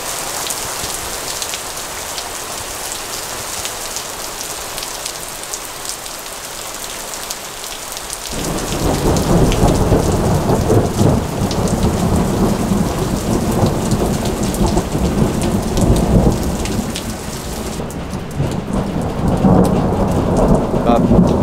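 Steady rain pours during a thunderstorm in the Chartreuse mountains, heard from under a house porch. The downpour thickens and grows louder partway through, with thunder rolling beneath the continuous hiss of rain.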